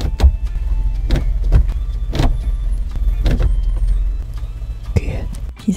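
Inside a new Hyundai Casper, the gear selector makes sharp clicks at roughly one-second intervals over a steady low idling hum in the cabin.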